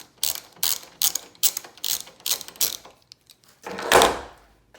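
T40 Torx driver backing out a hardtop screw on a Jeep Wrangler JKU, a sharp ratcheting click-click in quick bursts followed by a longer, louder ratchet sweep, close up with no talking.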